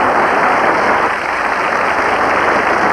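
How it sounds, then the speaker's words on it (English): A studio audience claps steadily in a dense, loud, continuous wash of applause that holds evenly throughout, with no voices over it. "Big round of applause from ladies and gentlemen."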